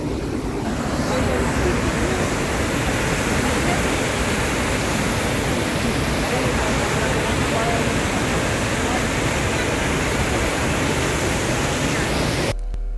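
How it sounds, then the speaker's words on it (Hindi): The Dhuandhar waterfall at Bhedaghat roars as a steady, loud, broadband rush of falling water, unbroken for the whole stretch and close to the listener, with wind buffeting the microphone. "तो धुआंधार झरना भेड़ाघाट में स्थित है।"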